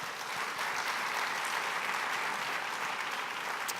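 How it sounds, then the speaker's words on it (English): An audience at a Columbus neighborhood civic event applauds council members, a dense, sustained round of clapping with a faint crowd murmur, even and moderately distant. "Let's give them a round of applause."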